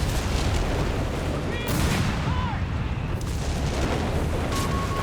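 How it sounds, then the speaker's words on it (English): Anti-tank gun firing in the Company of Heroes 3 strategy game, two heavy booming shots standing out over a constant, dense din of battle noise. "here goes the AT gun, though"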